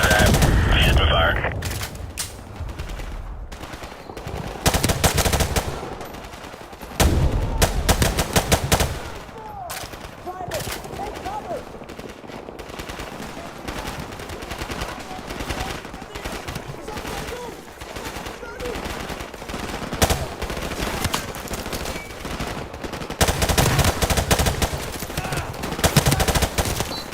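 Call of Duty Modern Warfare Remastered firefight with loud bursts of automatic gunfire and single shots coming in repeated waves, mixed with shouted voices and battle noise.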